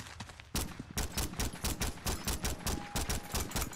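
Rapid automatic gunfire from a modded weapon in Fallout 4 rattles out in a steady, fast burst of loud, close shots, starting after a brief pause and running without talk.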